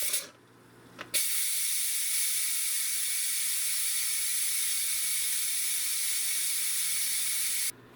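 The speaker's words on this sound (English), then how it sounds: "let's release the steam, which would be a quick release" Steam from an electric pressure cooker's quick release vent, cooking potatoes: after a short click, a loud, steady, close hiss starts suddenly and holds evenly for several seconds before cutting off abruptly.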